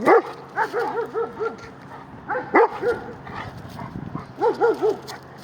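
A dog barks and yips in quick bursts close by, with short pauses between the volleys, on a farm.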